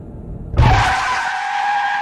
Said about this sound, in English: All I heard was the awful sound of the tires against the asphalt.